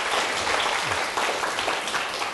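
A lecture audience at Sookmyung Women's University claps to welcome a pastor as guest speaker, a dense, sustained burst of many hands applauding together, loud and even throughout with no talking over it.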